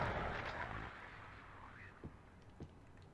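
Gunshots in a video game, a loud burst of firing at the start that fades into a rumble, then two short, separated pops after about two seconds.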